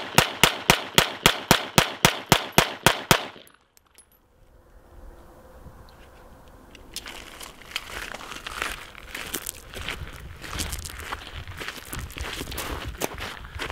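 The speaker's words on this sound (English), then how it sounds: "let's start off with the 9mm." A 9mm pistol fires about a dozen rapid, loud, evenly spaced shots in a quick string, then stops abruptly, followed by quiet shuffling and rustling handling noise.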